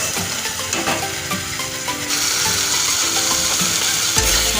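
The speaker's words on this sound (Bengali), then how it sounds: "এবার আমি মশলাটাকে কষাবো" Spice paste sautéing in a pan with sugar and soy sauce, a steady close sizzle and frying hiss with stirring scrapes, growing louder and denser partway through, with no talk.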